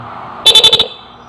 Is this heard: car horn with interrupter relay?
yes